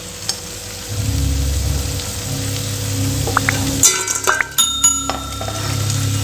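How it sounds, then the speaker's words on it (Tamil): Crispy bonda fritters are lifted from hot frying oil with a strong sizzle, then a run of metal clinks, taps and rattles from a ladle and pan as they are drained and set aside. "எடுத்து போடும்போது உங்களுக்கு சவுண்டு கேட்குதா பாருங்கள், எந்த அளவுக்கு கிறிஸ்பியாக இருக்குன்னு"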